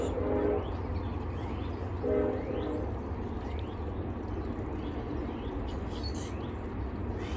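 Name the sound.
freight train passing northbound and blowing its horn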